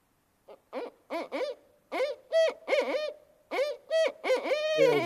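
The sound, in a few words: barred owl hooting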